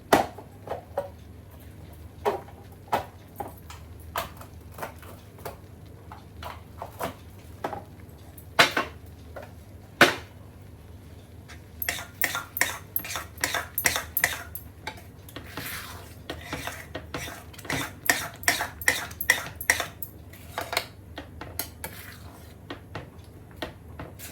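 Sweet and sour chutney stirred in a pan over medium heat, sparse scrapes and taps of a spoon against the metal that speed up into a quick, steady scraping rhythm, close and moderately loud.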